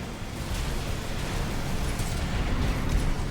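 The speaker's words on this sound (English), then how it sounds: "Just gotta respect the cannons on the shoulders." Shoulder-mounted cannons fire from a mech in the video game Armored Core 6, a loud, dense roar of blasts and explosions that fills the whole stretch without a break.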